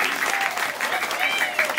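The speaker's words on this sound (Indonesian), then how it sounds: "Artinya tepuk tangan dong." A crowd applauding, a brief, fairly loud burst of mixed clapping with voices calling out through it.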